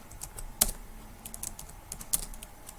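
Keys tapped on a computer keyboard in a light, irregular run of close clicks with a couple of sharper key strikes, no voices.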